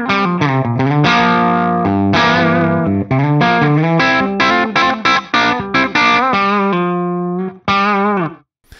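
An electric guitar through an Axe-Fx III with its room parameter set for subtle ambience plays a run of distorted chords and notes, each with a short, faint reverberant tail after it.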